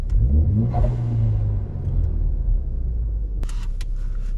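A 2016 Ford Focus ST engine revs up with a deep rumble that rises and then settles to idle, heard close, with a few sharp clicks near the end.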